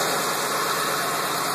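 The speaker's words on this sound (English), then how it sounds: "other than a little bit of moisture coming out of the exhaust system, which I'm not too worried about, idling, running pretty decent" A swapped engine in a 1967 Ford F100 pickup idles steadily, a loud, even, continuous rumble heard up close with no voices.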